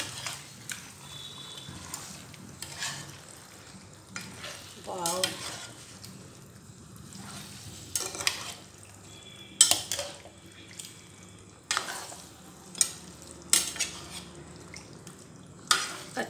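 Lemon pepper chicken sizzles in a pan while a spoon stirs and scrapes it in repeated bursts, a soft frying hiss between the sharper clatters, close and without talk.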